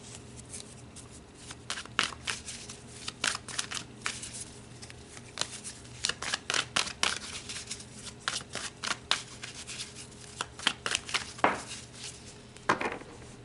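A deck of tarot cards is shuffled by hand, close and crisp, with rapid riffling bursts and flutters repeating in uneven waves throughout.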